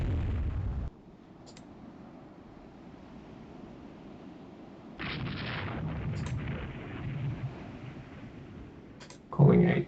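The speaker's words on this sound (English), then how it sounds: "Just torpedoes going into the massive ships here" Torpedoes strike massive battleships in Rule the Waves 3 as heavy booms with a deep rumbling tail. One sounds at the start, another hits mid-way, and a sharp, loud blast lands at the very end over a low background.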